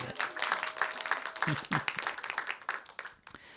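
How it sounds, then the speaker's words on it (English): Scattered clapping from an audience at a National Federation of the Blind of South Carolina gathering rises and thins over a few seconds, soft and somewhat distant, mixed with murmured talk. "Yeah, you can applaud for that"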